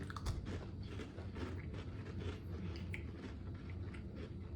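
Someone eating Dewey's cookies, with soft close chewing and crunching and small mouth sounds over a low room hum, without talk.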